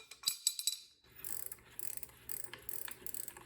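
Close ratcheting clicks in quick rhythmic bursts as an e-bike freewheel is turned off its hub with a removal tool and wrench, preceded by a few sharp metallic taps and a brief pause.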